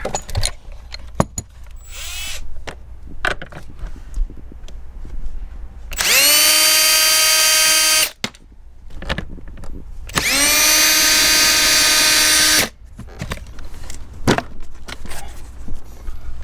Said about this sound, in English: let's remove these two 10mm bolts